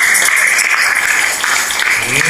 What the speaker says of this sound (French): On applaudit Jésus très fortement.